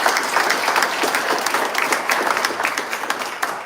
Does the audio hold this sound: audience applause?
yes